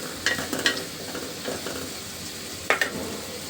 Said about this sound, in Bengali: একটু নাড়া দিয়ে দিলাম